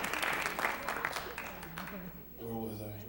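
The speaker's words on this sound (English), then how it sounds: "Yeah, give me a clap" Audience clapping at a Bollywood Bash 2022 world music show, a dense burst of applause over a raised speaking voice, fading toward the end as a sustained tone rises.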